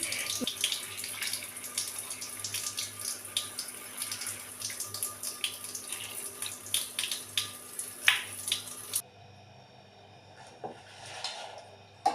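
Running water splashes steadily from a tap over soaked lentils being washed, with scattered clatters of handling, then drops to a quieter trickle near the end.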